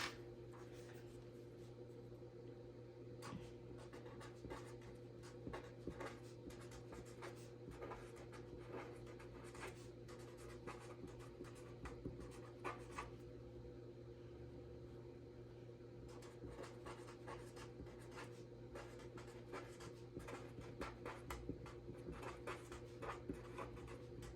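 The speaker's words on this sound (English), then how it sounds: "So I'm gonna write that right here. I'm actually gonna write it in this." Pen writing in a paper planner, soft quick scratching strokes in faint bursts over a steady low background hum, close but quiet, with no talk.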